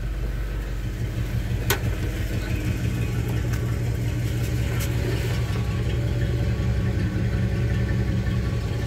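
A 1962 Chevrolet Impala's engine idles just after starting while still cold, with a steady, close, continuous mechanical drone and a few faint clicks; no one speaks.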